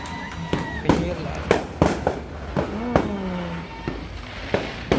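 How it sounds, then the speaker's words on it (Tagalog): New Year fireworks bursting at a town plaza: repeated sharp, loud bangs and crackles at irregular intervals, with a descending whistle, crowd noise and nearby voices talking and cheering. "Nandito yung mga fireworks eh."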